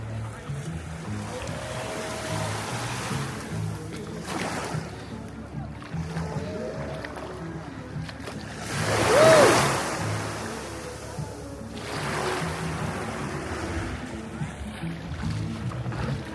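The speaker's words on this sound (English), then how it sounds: "Get the ocean." Ocean waves wash steadily at a beachside resort in Jamaica, a broad continuous surf hiss with a louder swell surging in midway, while faint voices and background activity sit underneath.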